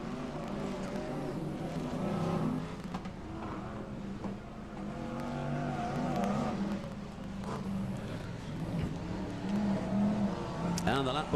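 BriSCA F1 stock cars race at Long Eaton, their engines roaring and droning as they sweep down the back straight, heard steadily from a distance beneath an announcer's running commentary.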